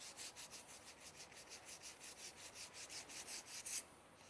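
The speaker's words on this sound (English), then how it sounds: "now use some sandpaper just to take those edges down to a nice" Sandpaper rubs back and forth over raised edges of a rough, cured Nullifire intumescent coating, giving a steady, close scratchy rasp in even strokes that ends with a brief harder scrape.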